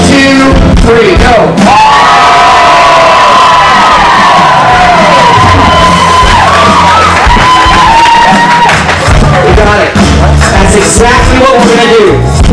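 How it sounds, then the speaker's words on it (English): A large crowd of people yells, whoops and cheers loudly and continuously as if celebrating a Super Bowl win, a dense roar with high shouts rising above it throughout. "I want to hear the kind of yelling I would hear if that happened."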